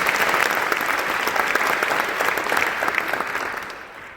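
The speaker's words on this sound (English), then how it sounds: "So let's clap hands for them." An audience claps warmly and steadily for about four seconds at a charity talk, a dense wash of applause that fades slightly at the end.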